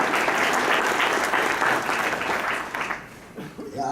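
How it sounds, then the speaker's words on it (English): Audience applause at a talk on atheism and firebrand activism, a dense wash of clapping that stays loud for about two and a half seconds, then thins out and fades toward the end. "that's worth clapping for"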